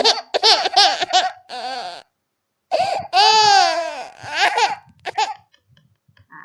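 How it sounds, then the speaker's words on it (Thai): A small child crying loudly in sobbing, wailing bursts with hiccuping breaths, a short pause after two seconds, then rising cries that trail off into faint whimpers, close and clear. "เสียงเด็กร้องไห้นั่นเองนะคะ คือเสียงเด็กร้องไห้"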